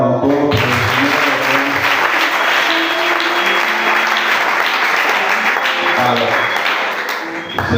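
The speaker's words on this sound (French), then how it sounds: "Acclame encore" A church congregation at a spiritual worship service claps loudly and steadily, the dense applause mixed with cheering voices and some music underneath, fading slightly at the end.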